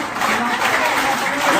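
An audience claps continuously at a farewell ceremony for a professor, a dense, steady wash of applause that is loud and close, with voices mixed in.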